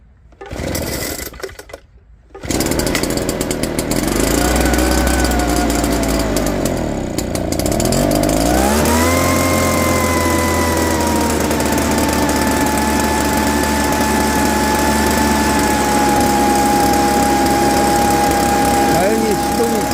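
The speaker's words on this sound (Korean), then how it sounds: "다행히 시동이 한 번에 걸렸습니다." A small engine on a pesticide sprayer fires up and settles into a loud, steady running drone with a high whine, after a brief pause; speech is heard before it starts.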